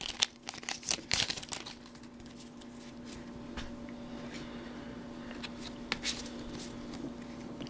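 A Pokemon Tidal Storm booster pack wrapper is torn and crinkled open by hand, with a burst of close, sharp crackling at the start that settles into quieter, intermittent rustling of the foil.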